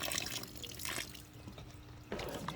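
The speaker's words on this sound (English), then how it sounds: "And I even dump this water because it's gross too." Dirty water from a pool pump being dumped out, a few close splashing and trickling bursts with quiet gaps between them.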